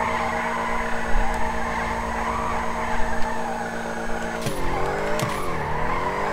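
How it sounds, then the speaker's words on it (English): A car spins donuts in a street intersection, its tires skidding and squealing over a loud, steady engine roar, with sharper bursts of tire scrub near the end. "This thing does do donuts pretty good."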